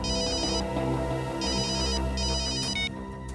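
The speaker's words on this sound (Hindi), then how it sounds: "सर मोबाइल कंपनी से फोन था" A mobile phone ringtone plays in repeated bursts of bright electronic tones over a steady music bed in a crime-drama scene, loud and close, with no talking.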